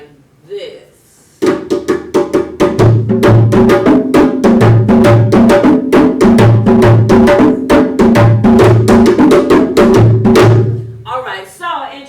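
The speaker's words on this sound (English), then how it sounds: "So the rhythm for Manjani sounds like this." Manjani rhythm for West African dance pounds out on djembe drums, a loud, fast, steady pattern of sharp slaps and deep bass tones repeating for about ten seconds after a brief spoken word, with a voice at the close.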